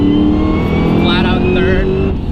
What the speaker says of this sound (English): I'm just gonna roll on the throttle.